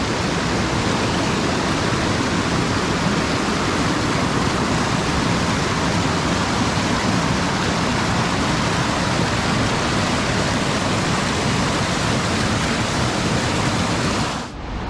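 The Vodopadnaya river in Yalta rushes in a dense, steady roar of water that stays loud and unbroken throughout, then cuts off abruptly at the very end.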